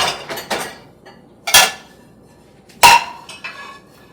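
Clean dishes are unloaded from a dishwasher in a home kitchen: several sharp clinks and clatters of plates and cutlery come in separate bursts, close by with quiet gaps between them.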